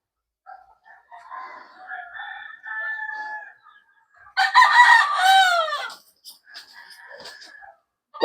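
Garden chickens cluck in short, scattered bursts before a rooster lets out one loud, close crow that rises and falls, followed by more clucking.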